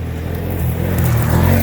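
A Can-Am Outlander XT850 ATV engine revs loudly and close just after a burnout, with a low, rising roar that builds toward the end.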